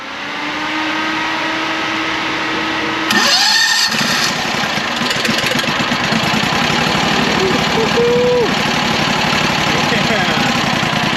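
A Chinese mini skid steer, its engine cranked after a year of sitting, turns over and catches about three seconds in, then runs at a steady, fairly loud idle with a rough mechanical rattle; a faint voice may be heard.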